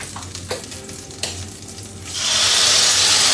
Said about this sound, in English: to that butter, while that's still good, we're going to add our sauce